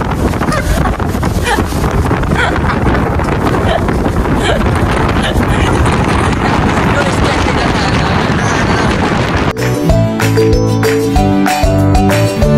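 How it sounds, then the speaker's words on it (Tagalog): Strong wind buffets the microphone outdoors on Oriental Mindoro, a loud continuous rumbling roar filling the whole stretch before music takes over near the end. "Akala ko sa akin lang hindi aayon ang hangin, mas malala pala sa'yo."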